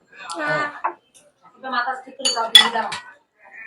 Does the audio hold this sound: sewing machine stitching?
no